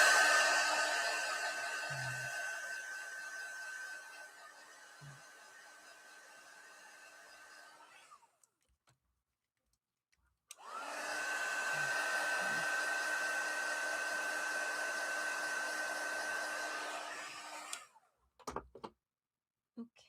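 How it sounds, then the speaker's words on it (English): A heat gun drying a mixed media craft piece, a loud steady blowing whir in two long bursts separated by a pause, ending with a few clicks and knocks. "Just give this another blast with the heat gun to dry it."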